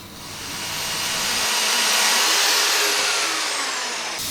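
A VEVOR bandsaw cuts through scrap steel pipe in a shop, a steady loud whining grind that swells and holds before easing off, with no talk.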